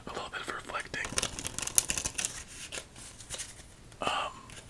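Soft riffling and snapping of playing cards in a casino-style shuffle, repeated several times, close and quiet, with whispered speech over it.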